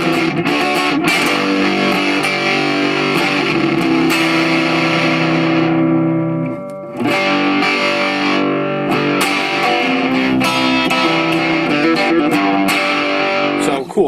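A piece played on a 12-string guitar, its strummed chords ringing full and continuous with a shimmering, effected tone that pauses briefly in the middle before resuming loudly.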